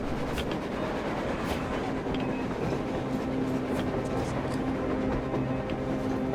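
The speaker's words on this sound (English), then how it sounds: "A train! A damn train on the surface!" A train rolls across the surface in Metro Exodus, a steady rumbling roar with a faint clickety-clack of wheels on rail running without a break, fairly close and unchanging.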